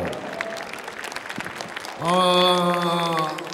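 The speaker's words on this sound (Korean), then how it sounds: "박수 보내주십시오" An audience at a Korean science teaching contest concert breaks into loud applause, first faint clapping under an excited announcer, then a fuller burst of crowd clapping mixed with music.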